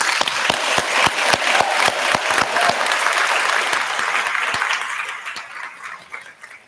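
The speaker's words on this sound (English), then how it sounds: "let's make sure that we take a moment to applaud your support system for getting you here today" Graduation ceremony crowd applauding the graduates' families, with sharp distinct claps near at hand over a broad wash of clapping that swells, then gradually tapers off with a few last scattered claps.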